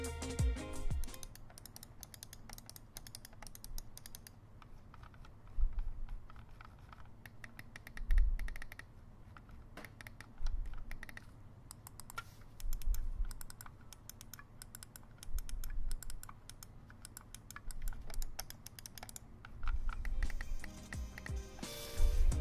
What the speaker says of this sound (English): Razer is also known for their pleasant switches sound, as they are not as loud as some competing offerings.